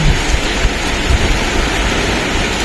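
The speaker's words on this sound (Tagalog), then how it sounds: "Yan po, ang ulan sa labas." Heavy typhoon rain pours steadily outside, a dense, continuous roar with no voices.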